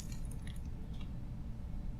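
A brief, soft squishy chewing from a character eating in the survival game Subsistence, a few moist bites over steady low background noise, with no one talking.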